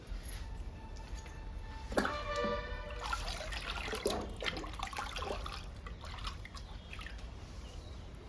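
Liquid fertilizer poured over plant cuttings of ZZ plant, syngonium, Song of India and coleus in pots, a faint trickling and dripping of liquid at close range with no talk.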